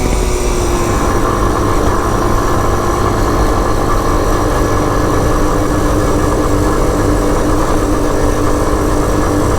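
A small Honda postie motorcycle engine runs in a steady, continuous drone, close and fairly loud, with no pauses or voices over the whole stretch.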